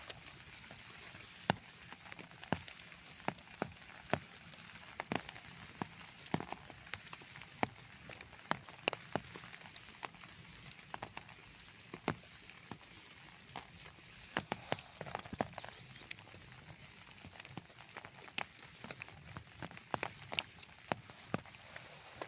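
Steady rain patters softly outdoors, with scattered louder drips and taps landing irregularly throughout, fairly faint and continuous.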